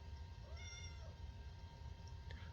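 Cat meowing faintly in a hotel room, a few short, thin mewing calls over a steady low hum of room noise.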